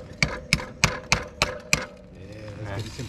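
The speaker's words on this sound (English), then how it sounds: "Now all we needed was a hammer." A hammer tapping on a single Allen key, metal on metal, outdoors during an adventure motorcycle trip: six sharp, evenly spaced clinks close by, followed by quieter rustling and faint background sound.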